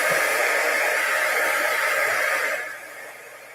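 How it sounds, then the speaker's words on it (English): A heat tool blows a steady, loud rush of hot air over painted craft pieces to dry them, then cuts off near the end and leaves a fading hiss. "We are going to hit this with our heat tool for just a second."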